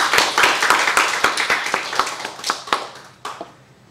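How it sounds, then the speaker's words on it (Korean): A church congregation at a Korean Sunday worship service claps in thanks, giving a run of distinct, rhythmic hand claps that thin out and fade near the end. "우리가 4단계지만 이렇게 예배드릴 수 있는 은혜를 주신 하나님께 감사의 박수 한번 하겠습니다."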